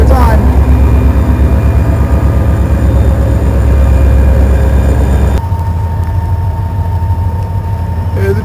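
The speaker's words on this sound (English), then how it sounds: "There's a train." A train passes close by outdoors, a loud continuous low rumble and rattle that drops in level and thins out abruptly partway through, with no talk over it.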